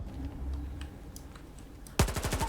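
Gunfire in the video game S.T.A.L.K.E.R. 2, with a shotgun mentioned: a loud, near burst of rapid shots near the end, after quiet game ambience with faint clicks.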